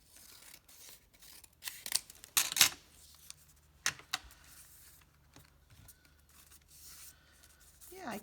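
Scissors cutting textured paper with black strings for a junk mail folio, giving a few crisp close snips and rustles amid quiet handling noise.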